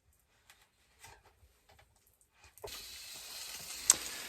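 Fish begins frying in a pan on a camp stove during winter van camping, silence and faint clicks giving way to a sudden steady sizzle with a sharp crackle partway through.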